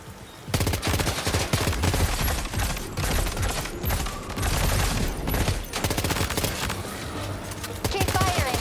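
Heavy automatic gunfire in the PS5 Pro game Death Stranding 2 rattles in loud, dense bursts with brief pauses between them, close and sustained through the whole stretch, with a little talk faintly underneath.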